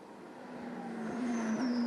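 A race car in the ADAC ACAS H&R Cup VLN endurance race at the Nürburgring in 2017, its engine droning steadily and building in loudness as it approaches.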